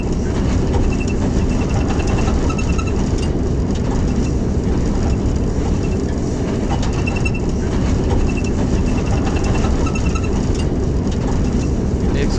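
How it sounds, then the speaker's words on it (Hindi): From the cab of the Kohat Express, hauled by a Hitachi locomotive on the Rawalpindi–Kohat line, the train pulls out of Basal Sharif with a loud, continuous low rumble and faint rhythmic wheel clicks. "ट्रेन अब बसाल शरीफ से बसाल जंक्शन के लिए रवाना हो रही है।"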